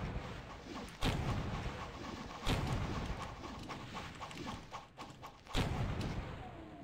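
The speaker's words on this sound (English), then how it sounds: "Ooh, this is a fun cannon." Pirate Doom, a Doom mod, has a cannon firing three heavy booms at spaced intervals, each followed by rumbling noise amid continuous game sounds.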